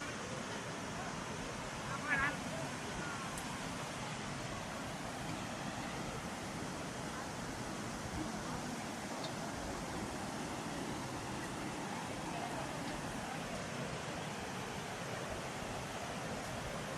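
Rushing water at Thalaiyar waterfall, a tall falls in Tamil Nadu, fills the scene as a steady, dense, broadband roar that never lets up, with wind-like hiss and no talk rising above it.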